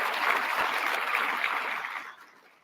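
Dense audience applause at a charity fundraising dinner fills the room steadily, then thins and fades out toward the end.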